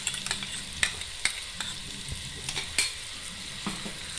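A crushed ginger, garlic and green chili paste is sautéed in a hot pan for chicken biryani, with a spoon scraping and clicking in irregular strokes over a steady, close sizzle of frying.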